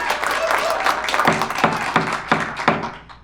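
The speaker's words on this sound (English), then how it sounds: "Can we get a round of applause for our jury?" A live audience at a staged mock trial claps for the jury, a sparse, uneven round of applause marked by several distinct sharp claps that fade out after a few seconds.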